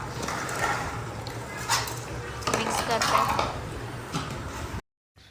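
Salted, spiced chicken pieces for a Raigad popti party are mixed in a pot, with irregular metallic clinks and scrapes of a utensil against the vessel and faint talk in the background, ending in sudden silence.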